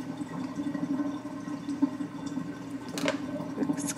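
Warm milk for homemade yogurt is stirred in a pot, giving a soft continuous liquid swirl with faint clinks of the spoon near the end, close and fairly quiet.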